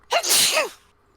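A single sharp human sneeze, loud and close, with a quick inhale leading into the burst and then silence, heard on its own.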